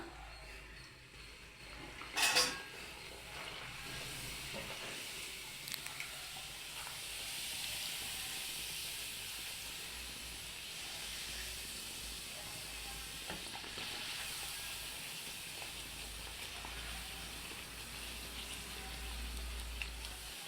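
Puris fry in hot bubbling oil with a continuous, fairly quiet sizzle and hiss, one louder splash near the start as dough drops in, and the steady frying running on alone.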